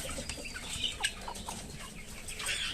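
Desi hill chickens and a rooster on a farm clucking softly and intermittently, short faint calls scattered over a quiet outdoor backdrop.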